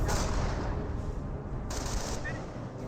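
Rapid small-arms and machine-gun fire from the Company of Heroes 1 video game cuts down medics in a burst of overlapping cracks and rattles. It is loud and dense, then tails off slightly.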